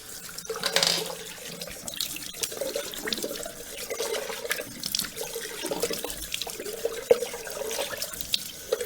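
Cold tap water runs into a sink for rinsing after a shave, a continuous splashing flow with small surges and drips, heard close with no talk.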